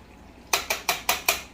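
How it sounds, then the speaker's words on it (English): A spoon scrapes and knocks against a pot while rice is stirred, giving five sharp, evenly spaced clinks in quick succession, close and clear against a quiet background. "I'm going to stir this, turn it to a low heat,"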